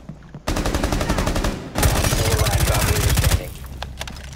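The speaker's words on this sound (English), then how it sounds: "They're shooting." Sustained automatic gunfire in Rainbow Six Siege, two long rapid bursts close and loud, followed by a few scattered single shots as the firing tapers off.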